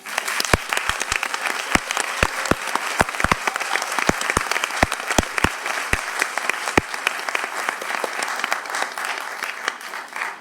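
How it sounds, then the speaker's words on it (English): A board of education meeting audience applauds students: sustained, even applause from a roomful of people, with sharp individual claps standing out near the front for the first seven seconds before it thins and fades. "Let's give tonight's students and all the 289 students this year a big round of applause"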